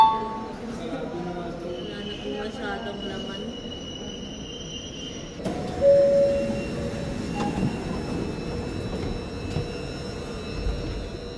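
A Beijing subway train rumbles steadily throughout, with a louder swell and a brief high squeal as it moves, heard amid station ambience with people talking nearby.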